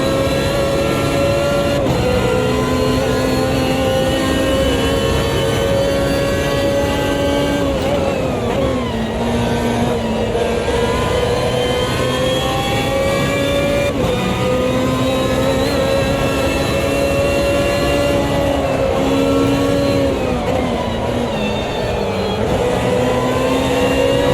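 Race car engine in Automobilista 2 revving hard and climbing through the gears as it accelerates out of a corner, loud and continuous with steady rising pitch sweeps and no pauses.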